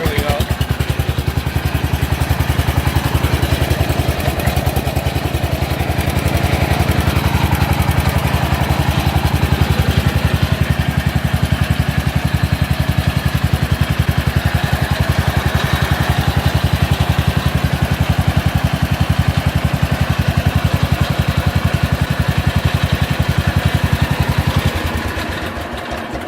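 Engine of a 1954 Yazoo 60-inch mower running too fast with the throttle having no effect, a loud steady high-revving drone that holds throughout, then drops slightly at the end, with talk faintly underneath.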